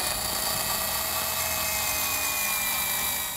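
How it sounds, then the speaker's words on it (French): A power drill boring a pilot hole in a rubber paver tile gives a steady, high-pitched whine that holds evenly throughout, close and loud, with no voices. "Je perce un trou de guidage dans la dalle."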